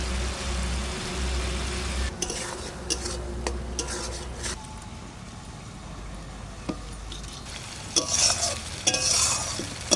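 Spices with turmeric and salt being stir-fried in a pan for a Sundarbans crab curry, a steady low sizzle with scraping stirs and occasional clinks of utensils against the pan, close and continuous.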